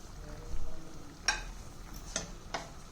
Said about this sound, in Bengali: দেখুন ঝোলটা একদম ফুটে উঠেছে